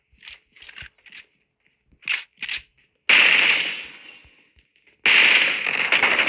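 Gunfire in the mobile game PUBG Mobile comes first as short clustered bursts of sharp cracks. Two longer loud blasts of rapid fire follow, separated by a gap, with nobody talking.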